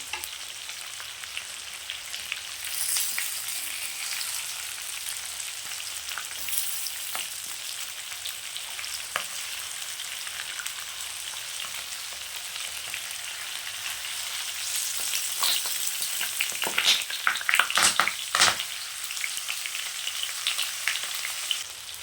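Pieces of rohu fish fry in hot oil in a pan with a continuous soft sizzle, and brief scraping clatters from turning the fish come near the end, with no speech.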